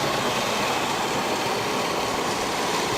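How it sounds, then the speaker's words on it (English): Steady broadband air rush from a cooling air blower on a motorized skate braking test rig, running continuously at even loudness with a constant low mechanical hum, no braking force applied. "Now we'll come around and turn on the cooling air."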